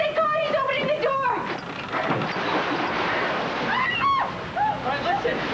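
Aboard a sinking ship in a radio drama, water roars and surges into the hold in a heavy, rushing wash, while strained voices shout over the flooding noise.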